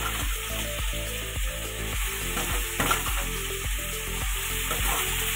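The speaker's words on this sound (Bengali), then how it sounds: "কচুটা আমি চিংড়ি মাছ ভাজার মধ্যে ছেড়ে দিচ্ছি।" Pieces of taro dropped into a pan of fried prawns sizzle steadily and loudly, with repeated stirring scrapes of a spatula against the pan and no voices.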